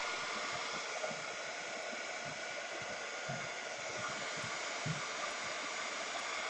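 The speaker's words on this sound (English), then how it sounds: "I'm going to hit them with the dryer here." A hair dryer blows steadily and close on freshly sprayed art journal pages, a constant broadband rushing hiss holding an even level throughout with no pauses.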